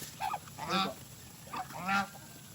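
Geese kept on a farm beside Peking ducks honk in two loud, close nasal calls about a second apart, each a rising, brassy bray, with quiet background between them.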